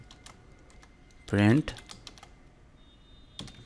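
Computer keyboard typing during Python coding: a dense burst of fast keystrokes in the middle, with a few lighter taps around it, close and fairly loud, with a voice speaking briefly.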